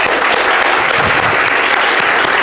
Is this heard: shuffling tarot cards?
no